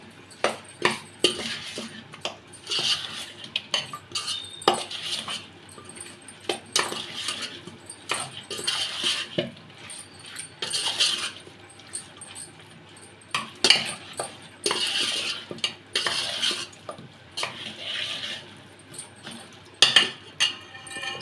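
Chicken curry ingredients stirred in a metal pot with a spoon in a home kitchen: repeated irregular scraping and clinking of utensil against cookware, close and moderately loud, continuing in uneven bursts.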